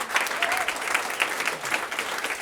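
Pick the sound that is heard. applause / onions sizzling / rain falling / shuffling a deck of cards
applause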